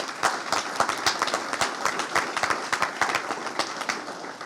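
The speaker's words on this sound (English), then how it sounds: "So let's give that a round of applause." A modest audience applauds at a South Carolina school report card news conference, with separate sharp claps from a smallish group forming a steady ragged patter, with no speech over it.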